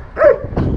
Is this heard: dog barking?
yes